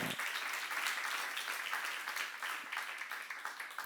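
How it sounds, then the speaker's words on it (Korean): Congregation clapping during a church seminar sermon on Hebrews, a brief, quiet, continuous patter of many hands, steady with slight fluctuations throughout. "박수를 하세요."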